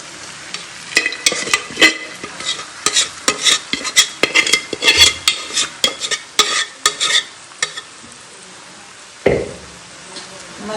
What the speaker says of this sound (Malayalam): ഇനി ഇതിലേക്ക് ഞാൻ ബീഫ് ചൊരിയുന്നുണ്ട്